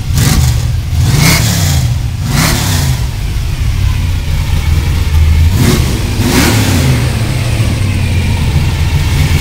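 A hot rod engine runs loud and close, blipped several times so the revs surge and fall back in quick bursts over a rough, lumpy idle rumble, no talk.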